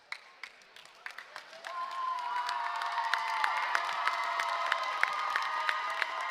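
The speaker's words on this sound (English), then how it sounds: "Great ovation from the crowd." A crowd at a senior girls' basketball game breaks into a sustained ovation, scattered claps at first, then building into steady cheering and whoops that hold loud to the end.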